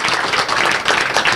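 Applause from an audience at an annual meeting of a regional alliance, a brief burst of dense, steady clapping without speech.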